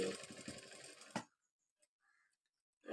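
A sewing machine stitches rounds of cutwork embroidery in a short, close burst that stops abruptly. Faint clicks follow, and then the machine starts again at the very end.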